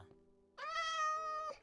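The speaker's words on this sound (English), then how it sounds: "Excuse me, cat." A single clear cat meow in Minecraft, rising and then holding steady, fairly close and alone over quiet game background.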